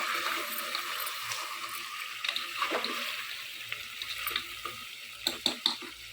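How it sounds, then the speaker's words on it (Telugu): A spoonful of ginger-pepper powder being stirred into a simmering dish, soft scraping strokes over a light bubbling sizzle, close and fairly quiet, with a few sharper clinks near the end. "కలపాలి."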